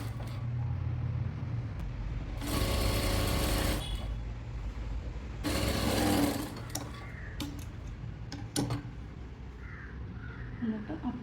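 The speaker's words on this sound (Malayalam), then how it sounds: "സ്ട്രൈറ്റായിട്ട് പിടിച്ചിട്ട് സ്റ്റിച്ചിട്ട് കൊടുക്കുക." A sewing machine stitches a folded churidhar top fabric in two separate bursts, one longer and one shorter, close and fairly loud, with quieter gaps and faint background sounds between them.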